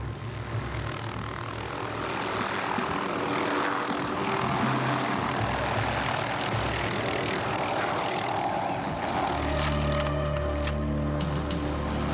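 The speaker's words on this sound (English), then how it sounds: "So we got Brandon out of the helicopter, stood back and watched him take off." A loud, steady helicopter rotor and engine roar holds throughout, rising in pitch and intensity near the end as it powers up for takeoff.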